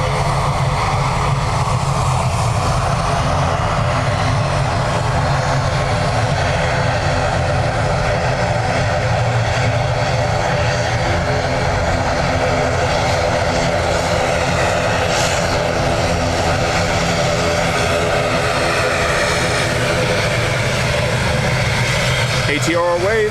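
ATR turboprop airliner at Dublin Airport, its steady propeller drone loud and close for the whole stretch, with brief voices over it near the end.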